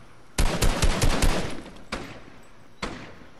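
Rapid automatic gunfire in a Fortnite Chapter 2 Season 4 match: a loud burst of quick shots, then two single louder cracks spaced about a second apart, with no talking.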